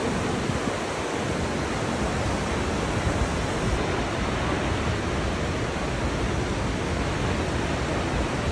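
Takakkaw Falls, one of the highest waterfalls in British Columbia, Canada, roaring as a dense, constant broadband rush of falling water that stays loud and unchanging throughout, with wind buffeting the microphone.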